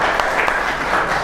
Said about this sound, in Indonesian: Beri tepuk tangan dulu untuk kelompok 3.